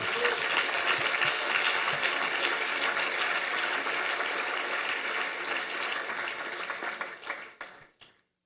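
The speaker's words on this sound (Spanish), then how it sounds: "Dele un aplauso al Señor ahora." Sustained applause from a large church congregation, steady and dense for several seconds before tapering off and fading out at the end.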